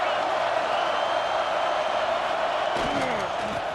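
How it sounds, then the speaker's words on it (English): Stadium crowd in EA Sports College Football 26 keeps up a steady, loud roar with no break, and a brief burst of higher crowd noise rises near the end. "This crowd trying to show them what it's going to be like all day in this house."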